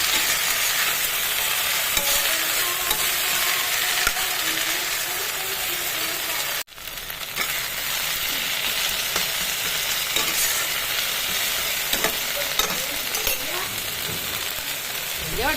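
Jute leaves and red lentil dal cooking in a pan on a gas flame, giving a steady sizzle with stirring and scraping throughout, briefly cut off once midway before resuming.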